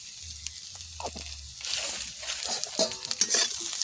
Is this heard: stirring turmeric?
yes